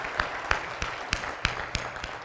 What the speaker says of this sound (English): I want to give them another round of applause